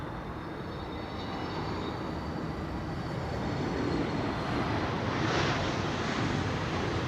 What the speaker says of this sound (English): This is Pegasus, Air Oink Oink, arriving from Istanbul. A321neo.